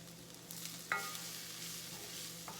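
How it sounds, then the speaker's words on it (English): Oregano, aleppo pepper and cinnamon toast in a dry pan, a faint soft sizzle with light stirring scrapes and a small clink near the start, quiet and continuous with no talk. "you're just gonna toast them a little bit, like cook them maybe a minute or less"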